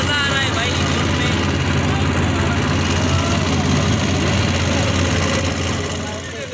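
A boat engine runs steadily on a dam lake, a loud continuous drone with wind and water noise throughout, easing slightly at the end.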